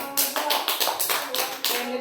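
A group of children clap together in a classroom, a loud burst of applause with repeated uneven claps lasting about two seconds.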